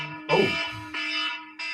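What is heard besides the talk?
reminder alarm going off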